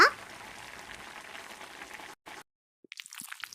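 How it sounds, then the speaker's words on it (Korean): A pot of Jjapaghetti noodles with vegetable flakes and soup base bubbles and hisses steadily at close range for about two seconds, then cuts to near silence broken by a few light clinks. "건더기 스프를 넣고 끓여요"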